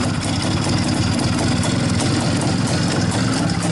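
An Izh-49 motorcycle engine idles at low revs with a steady, continuous drone and low rumble, running loud and close for the whole stretch with no voices over it.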